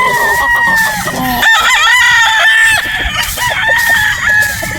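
Sweater Gilmore gamefowl rooster at a game farm, crowing loudly and close in one long drawn-out call, with other birds clucking and calling around it.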